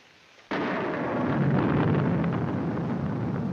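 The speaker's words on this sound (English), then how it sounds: "I'm afraid of the thunder and lightning." Thunder in a 1946 film scene, a sudden loud crack that rolls into a sustained heavy rumble lasting several seconds, with no talk over it.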